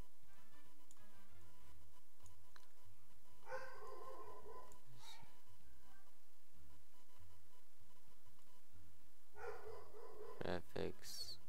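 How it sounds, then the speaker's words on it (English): A few short bursts of dog barking in the distance, faint and spaced apart over a quiet, hissy background. "I hope you don't hear those dogs barking."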